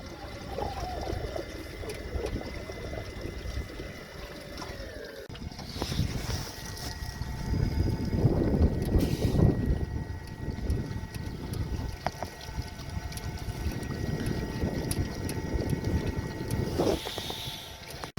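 A Torqeedo electric outboard drives a Grumman 17 canoe downwind at a slow cruise, making a steady low hum with water swishing past the hull and gusts of wind noise across the microphone, continuous and fairly close.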